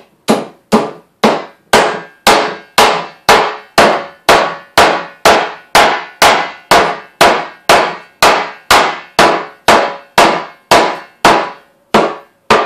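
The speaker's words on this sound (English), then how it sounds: "basically hammer it right into the wood" Hammer pounding a metal nail or rivet into the wood of a Viking-style round shield, a loud, close and evenly paced series of about two dozen ringing blows.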